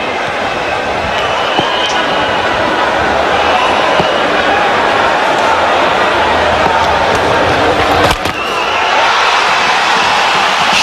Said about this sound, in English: now a very warm reception from this crowd on his half century